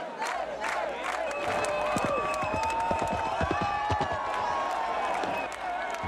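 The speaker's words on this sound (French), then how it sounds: "À chaque tentative, la foule encourage les cavaliers." A large festival crowd in Menorca cheers and shouts for horse riders at the Sant Joan celebrations, a continuous loud roar with scattered whoops and clapping.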